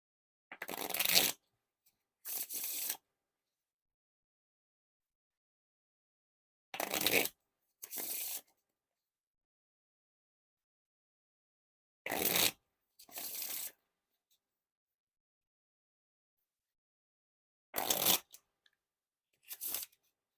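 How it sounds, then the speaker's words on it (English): Riffle shuffles of a Bicycle Platinum playing card deck repeat in pairs of quick, crisp fluttering bursts, separated by long silent pauses, close up. "Now time for the riffle shuffle or bridge shuffle."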